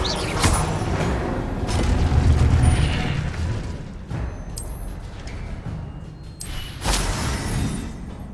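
A fire spell cast in the Hogwarts Legacy video game, heard as loud whooshing bursts and booming blasts over a dense, rumbling game soundscape, with sharp flares near the start, middle and end.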